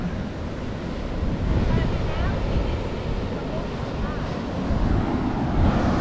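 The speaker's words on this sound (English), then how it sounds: "it's flat calm out there, just the waves rolling in" Steady broadband wash of surf rolling onto a South Australian beach on a flat calm sea, with wind buffeting the microphone throughout and no clear breaks.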